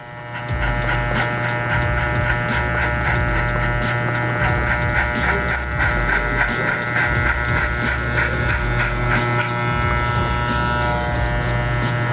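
A Wahl 5-Star hair clipper hums loudly and close while cutting hair, a steady electric buzz with rhythmic changes as it passes through the hair.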